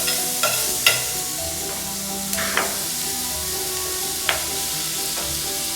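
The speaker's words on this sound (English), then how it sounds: "Now you hear that sizzle." Bacon sizzles in a pan with a constant bright hiss, broken by a few scraping clicks of a utensil stirring the pieces.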